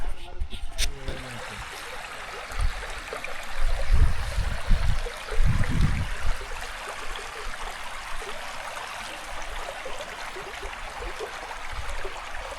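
Kitchen Creek flows along a trail in a steady, soft trickle and burble that runs throughout, with a few heavier low thumps and rustles near the start.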